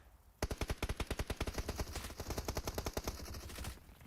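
An MG3 machine gun fires a rapid, sustained burst of evenly spaced shots, roughly three seconds of continuous automatic fire in a PUBG Mobile match, heard alone without talk.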